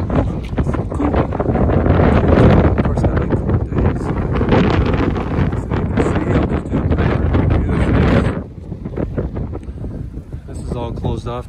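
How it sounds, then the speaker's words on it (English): Strong wind buffets the microphone on a school gym roof under construction, a loud continuous roar of gusts that drops sharply near the end, with someone talking over it. "And it's quite windy up here."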